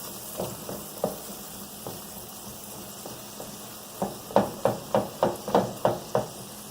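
Steak slices sizzle on a hot griddle for Philly cheese steaks while a metal spatula peels the meat away, giving a run of sharp scraping taps. The taps come sparse at first, then fall in a quick regular rhythm over the frying hiss.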